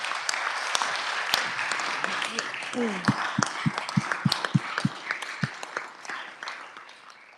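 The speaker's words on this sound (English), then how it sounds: "Let's applaud to the teacher, Jennifer Gillespie, real quick" Applause fills a senate chamber for a teacher, a broad steady wash of many hands with a few sharp, distinct claps standing out near the end as it thins out.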